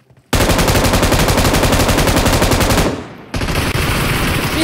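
Rapid automatic gunfire in the PUBG Mobile video game, a loud sustained burst of evenly spaced shots lasting a few seconds, then a brief gap and another close burst.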